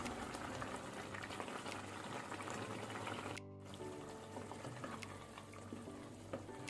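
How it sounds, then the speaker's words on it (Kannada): Methi mutton gravy bubbles steadily in a pan on a medium-high flame, with a continuous close-up simmer and burble. "ಈಗ ನಾನು ಫ್ಲೇಮನ್ನು ಸ್ವಲ್ಪ ಮೀಡಿಯಮ್ ಟು ಹೈಯಲ್ಲಿ ಇಟ್ಕೊಂಡು ಸ್ವಲ್ಪ ಗ್ರೇವಿಯನ್ನು ಡ್ರೈ ಆಗಲಿಕ್ಕೆ ಬಿಡುವ."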